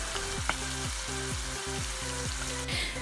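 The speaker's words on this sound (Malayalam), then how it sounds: "ഇപ്പോൾ നമ്മുടെ ചെമ്മീനെല്ലാം നല്ല രീതിയിൽ തന്നെ ഫ്രൈ ആയി വന്നിട്ടുണ്ട്." Prawns fry in hot coconut oil in a pan for a Kerala-style prawn roast, giving a steady close sizzle with a rhythmic scraping of stirring throughout and a brief hiss near the end.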